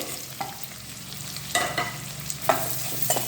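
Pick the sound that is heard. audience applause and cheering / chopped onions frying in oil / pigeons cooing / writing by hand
chopped onions frying in oil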